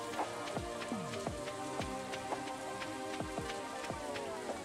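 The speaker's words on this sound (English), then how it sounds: "love the rain" Steady rain falls in the farming game Stardew Valley, a soft continuous patter with scattered drip accents over a quiet looping melody, with no voices.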